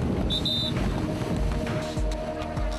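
Jet boat running on the open sea off Haeundae beach, a steady engine and hull rumble mixed with rushing wind and water noise, close to the microphone, with a short high tone near the start.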